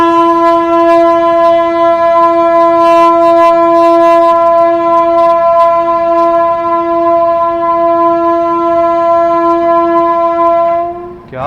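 A locomotive at Asansol railway junction sounds one long, loud, sustained horn blast with a rich, steady tone. It lasts nearly eleven seconds before cutting off abruptly.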